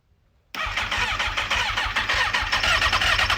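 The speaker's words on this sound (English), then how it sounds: "Let's see if we could start it up." A rebuilt Kawasaki ZX6R motorcycle engine abruptly fires up after brief silence and settles into a loud, close, steady fast-pulsing idle, no talking.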